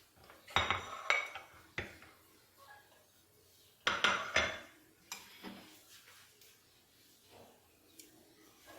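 Kebab mixture with papaya paste and browned onions is stirred in a bowl, with bursts of clinking and scraping of utensil against the dish, then quieter intermittent handling, close and without talk.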